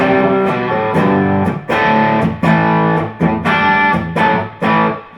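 A heavily overdriven electric guitar through an Electroplex Rocket 35 amp with crossover distortion plays loud sustained chords in repeated bursts with short gaps, its tone thick and gritty with distortion.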